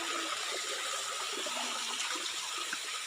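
A creek near a waterfall rushes in a steady, broad wash of flowing water, constant and fairly close, with no voices.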